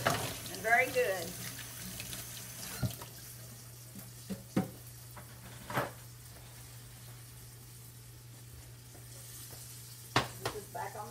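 Liver and onions fry quietly in a pan with a soft, faint sizzle. Occasional clinks and scrapes of a utensil cut through a steady low hum.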